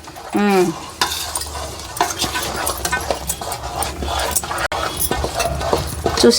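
Ariselu dough mixed with ghee in a pan is stirred steadily, with scraping spoon strokes and a soft sizzle close up, while someone talks over it.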